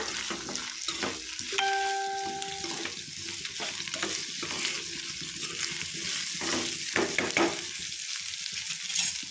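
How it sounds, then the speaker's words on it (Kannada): Potatoes and onions fry in a pan under a dense, continuous sizzle, broken by repeated scraping strokes as the pieces are turned, close and fairly loud throughout with no talk. "ಆಲೂಗಡ್ಡೆ ಕೂಡ ಚೆನ್ನಾಗಿ ಕೈ ಆಡಿಸ್ತಾ ಇದ್ರೆ ಚೆನ್ನಾಗಿ ಫ್ರೈ ಆಗುತ್ತೆ ಆಲೂಗಡ್ಡೆ ಕೂಡ"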